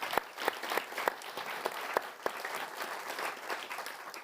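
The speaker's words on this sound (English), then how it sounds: "Let's give all our team a round of applause" Audience at a Young Londoners summit applauding the team, a steady wash of clapping with sharper individual claps standing out, fairly distant and moderate in volume throughout.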